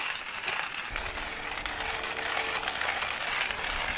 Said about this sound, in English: turn this, and this is grinding the coffee